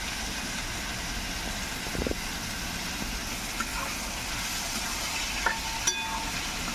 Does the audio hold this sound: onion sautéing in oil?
yes